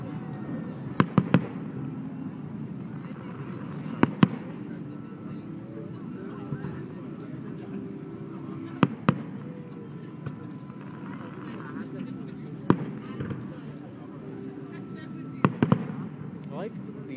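A 2012 fireworks show in Vancouver: sharp, fairly distant bangs and crackling pops come in scattered clusters over a steady low crowd murmur.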